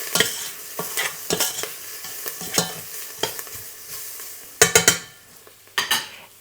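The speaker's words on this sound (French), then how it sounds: "Je mélange." Turmeric and spices being stirred in a hot pan, a utensil scraping and clinking against the metal in irregular strokes over a soft sizzle, with a few louder knocks near the end.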